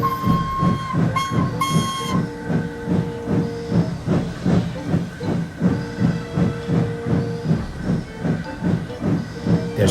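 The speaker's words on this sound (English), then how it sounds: "Gordon harumphed and hissed away." A steam engine hisses in steady rhythmic chuffs, with short whistle-like tones near the start and a continuous pulsing hiss throughout, with no talk.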